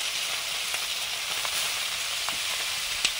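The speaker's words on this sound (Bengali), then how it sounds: "এটা শেষ রাউন্ড চুনো মাছ ভাজা।" Small chuno fish fry in hot oil in a wok, producing a constant bright sizzle and hiss with a few faint pops and clicks, steady throughout and free of speech.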